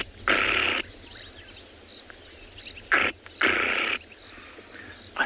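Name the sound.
flappet lark making rapid vibrating display sound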